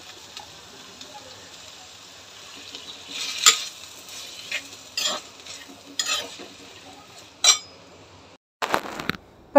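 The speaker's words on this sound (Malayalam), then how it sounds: "ഇത് ഞാനൊരു ഇച്ചിരി സ്പൂണും കൂടി ഇങ്ങനെ ഉടച്ചു കൊടുക്കുന്നുണ്ട്" Sautéed tomatoes with garlic in a pan are mashed and pressed with a spoon, giving a series of close, sharp scrapes and clinks over a low sizzle, with no voices.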